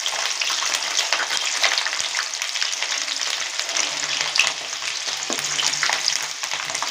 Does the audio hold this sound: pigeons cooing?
no